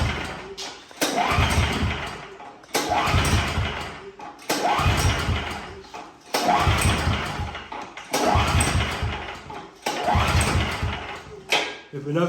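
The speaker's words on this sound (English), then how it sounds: "So I'm gonna crank it a couple more times." A snow blower engine is cranked over and over to run out the last of its gas, giving six rhythmic bursts of pulsing cranking that each stop briefly before the next pull, with no sign of it catching.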